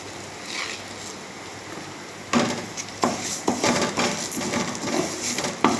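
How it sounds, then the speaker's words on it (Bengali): Dal lentils toasting in oil in a pan on a gas stove, giving dry crackling, rustling and scraping as they are stirred, with sharper stirring taps and clatters toward the end. "এই যে আমি ডালটা ভেজে নিচ্ছি"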